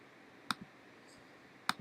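Two crisp computer mouse clicks about a second apart, each a short sharp tick with a faint release click just after, over a quiet background.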